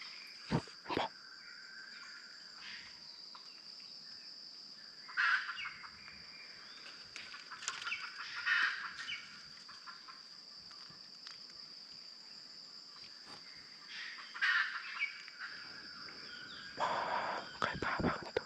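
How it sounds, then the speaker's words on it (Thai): Wild junglefowl, hens with chicks, wake in the forest and call in a few brief, scattered bursts over a steady, high drone of insects, with no talking. "ไก่ป่าพากันตื่น"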